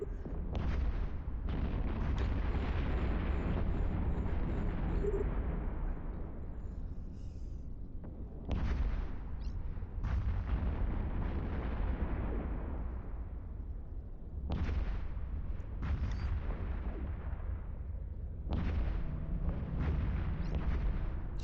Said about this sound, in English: Oh my god, the explosions.